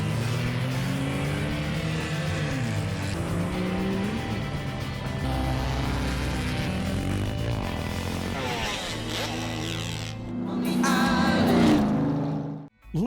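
A Jeep races around a track in Hawaii, its engine droning steadily at close range and rising and falling through gear changes, then swelling into a loud acceleration before cutting off abruptly near the end.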